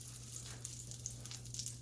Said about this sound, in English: we're frying it obviously, but it's more of a shallow deep fry